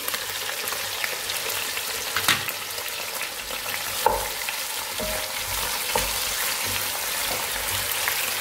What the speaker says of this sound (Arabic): من بعد ما تحمر لي الدجاج شويه نعطي البصل ما نديرش كاع الماء غير البصل الطيب